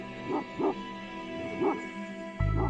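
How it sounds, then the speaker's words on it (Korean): A Mongolian Bankhar guard dog barks at night, giving several deep, separate barks in an uneven rhythm at medium distance against a quiet background, then a louder burst at the end. "수상한 움직임을 느끼면 큰 소리로 짖어 경계한다."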